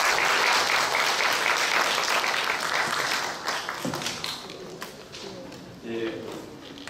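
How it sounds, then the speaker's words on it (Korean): Audience applause fills a workshop hall on disability and elderly community-based rehabilitation, loud and dense at first, then thinning and fading over several seconds with scattered claps and faint murmur. "박수 한번 쳐주세요."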